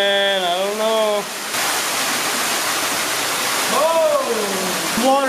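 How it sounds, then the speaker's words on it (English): A waterfall pours inside an underground tunnel, a loud, steady roaring rush that fills the space, with excited voices talking before and after it. "that's a waterfall"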